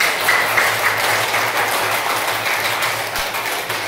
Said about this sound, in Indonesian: Berikan tepuk tangan yang sangat meriah